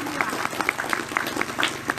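Jamaah at a religious gathering clapping together in a lively group rhythm, distinct claps rising from a crowd while voices carry on underneath.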